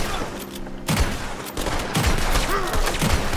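Gunshots ring out in a Red Dead Redemption 2 shootout, several loud cracks spaced irregularly amid dense game noise, with brief in-game voices calling out underneath.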